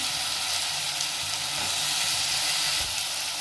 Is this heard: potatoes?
yes